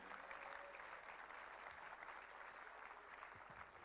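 Applause from an audience for prize-winning students at an Ayurveda Day ceremony, a steady, faint, distant clapping that continues evenly without pause.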